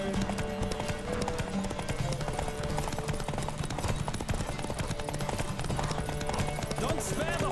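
Rapid, steady hoofbeats of a galloping horse in The Witcher 3 video game run throughout, loud and continuous, mixed with music and a voice talking over them.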